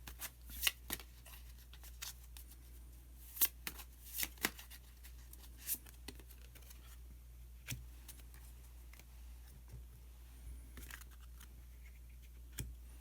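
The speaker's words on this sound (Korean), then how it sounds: "히든 카드를 한 장 더 뽑아보도록 하겠습니다" Tarot cards being shuffled and drawn at close range, a run of crisp, irregular riffling snaps and slides scattered across a quiet background.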